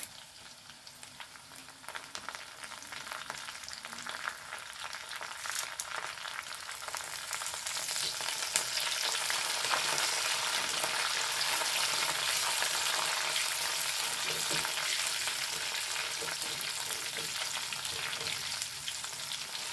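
Curry leaves dropped into hot oil fry with a steady, close crackling sizzle that swells after a few seconds and holds throughout, with occasional stirring and no talk.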